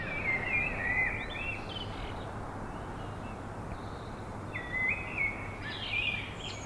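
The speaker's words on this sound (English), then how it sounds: "Can you hear the birds tweeting?" Faint bird chirps and short tweets come and go over a steady low outdoor rumble, sounding somewhat distant.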